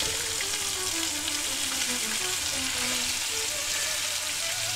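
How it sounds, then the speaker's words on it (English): Leeks sautéing in butter and vegetable oil in a pan give a steady, close, even sizzle and crackle that runs unbroken throughout, with no voices. "We're going to go ahead now and saute our leeks."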